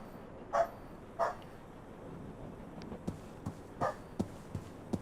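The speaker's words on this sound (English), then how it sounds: "Pardon my dog." A dog barks several times, sharp and fairly near, with two clear barks early, then a few quieter yips and a couple more barks spread across the few seconds, over a low room hum.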